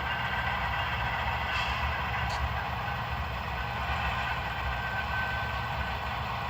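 An HO scale model diesel locomotive, a Gold Series model fitted with QSI sound, idles with a steady, continuous engine drone at moderate level and no talk.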